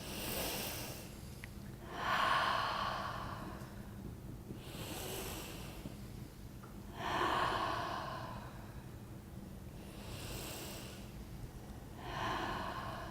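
Slow, deep breaths during a guided breathing exercise, each long inhale and exhale rising and fading in a steady cycle about every two and a half seconds, close and fairly soft over a low background hum, with no talking.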